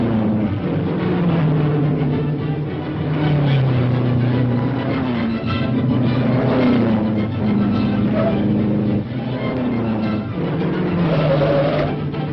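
A race car driving at tremendous speed, a continuous loud engine drone with shifting pitch that rises and falls as it runs, heard alone without talk.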